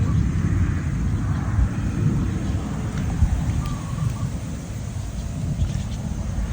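Steady rain pours down over rice fields, a dense continuous hiss with a heavy low rumble underneath, constant and fairly loud throughout.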